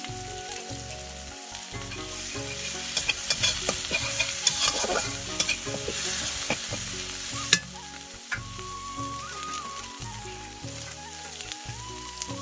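Spice masala with turmeric and salt is stir-fried in a pan, a close, steady sizzle broken by repeated scraping and clattering strokes of a spoon against the metal, with no talking.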